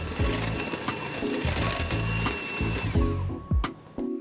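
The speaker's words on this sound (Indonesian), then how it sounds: "kita akan menggunakan mixer untuk mencampurnya hingga rata" A handheld electric mixer whirs through whipping cream with chocolate ganache for a tiramisu, its motor pitch rising and dropping as the beaters work the bowl, then cutting off with a few clicks near the end.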